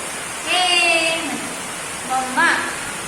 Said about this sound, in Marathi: काय पाऊस आला ना किती अजून पाऊस आले